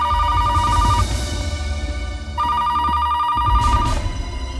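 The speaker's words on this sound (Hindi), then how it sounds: "फोन उठाओ प्लीज।" A telephone rings loudly in two long electronic bursts with a pause between them, part of a police investigation drama scene.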